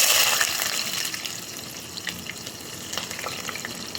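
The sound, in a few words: onions frying in oil in a kadai for dal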